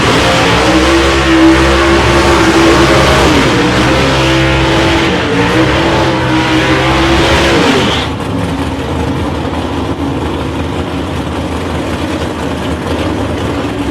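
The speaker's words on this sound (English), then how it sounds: "Nice couple of burnouts there from Kev McIver and Chris Leo." Race cars, including a black Camaro, doing burnouts at a raceway qualifying event, with loud sustained engine roar and revving that drops abruptly to a lower, rougher idle rumble partway through.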